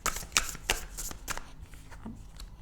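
A deck of tarot cards is shuffled by hand in quick, papery riffling bursts that are close and moderately loud, then fade to a softer rustle.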